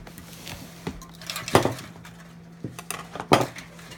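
A spoon clinks and knocks against dishes while homemade dressing is prepared, with sharp, scattered clatters at irregular intervals in a quiet kitchen.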